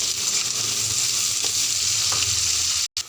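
Chopped garlic and ginger fry in hot oil in a pan with a loud, constant sizzle and some stirring, until the sound cuts out abruptly near the end.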